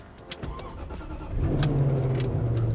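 After a few days parked, a £2000 Range Rover is started: a few faint clicks and rattles, then the engine catches and settles into a steady low idle, close by and with no voices.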